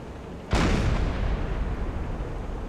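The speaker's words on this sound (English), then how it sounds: "Another explosion." In the submarine video game Silent Hunter 4, an explosion erupts with a sudden loud blast, then a long, rumbling roar that rolls on to the end without fading.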